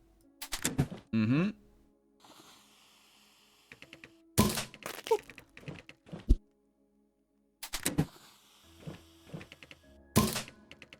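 Gunfire in a dungeon crawler video game comes as clusters of sharp, clicky shots and thunks separated by short silences, close and punchy, with no talking.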